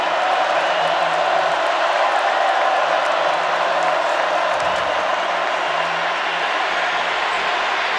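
A large college football stadium crowd roars steadily in the distance, a dense wash of cheering that barely rises or falls throughout.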